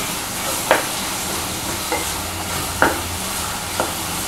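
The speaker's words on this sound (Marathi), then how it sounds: "कांदा चांगला असा गोल्डन कलर येईपर्यंत आपण असं परतून घेऊ तेलामध्ये।" Chopped onions sautéing in oil until golden for a cashew masala curry, a continuous close sizzle with a few sharp spatula stirs and scrapes against the pan, no talk.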